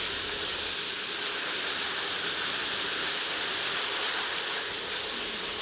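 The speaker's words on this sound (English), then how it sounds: "Add your onions and your herbs and saute until softened and browning on the edges." Onions and herbs sautéing in a pan until soft and browning, a steady, loud broadband hiss of frying with no break and no voices.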